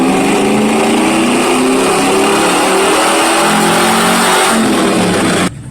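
A Chevrolet Silverado with a 6.0-liter LY6 V8 and a 595 lift intake accelerates under load while driving, a loud, steady engine drone with rising harmonics that holds throughout before easing off near the end.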